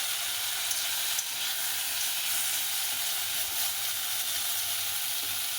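Lentil fritters (bora) fry in a pan with a steady, close, even sizzle and hiss throughout, no voices.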